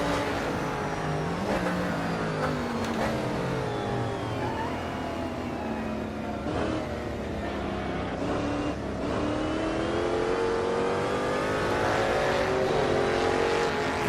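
A 1960s Shelby race car engine with a modified sound bank in a racing game at Kyalami, revving loudly and continuously through gear changes as the pitch rises and falls.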